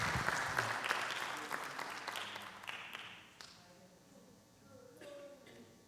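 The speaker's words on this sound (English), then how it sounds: "Let's give him a round of applause." Applause at a foundation event greets an introduced guest, clapping strongest at the start and thinning out as it fades, with scattered voices and sounds lingering at the end.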